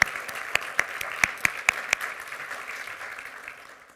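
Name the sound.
audience applause at awards ceremony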